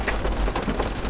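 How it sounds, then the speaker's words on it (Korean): Steady rain pours outdoors near a home on a wet day, a dense continuous hiss of drops striking surfaces, fairly loud and close with no voices. "저 지금 비가 와요."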